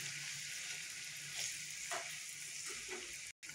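Onion paste fries in a pan for chicken kaleji, giving a steady close sizzle throughout with a few soft stirring scrapes rising above it and no talk.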